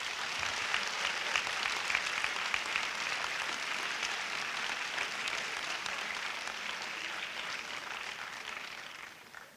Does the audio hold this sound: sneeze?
no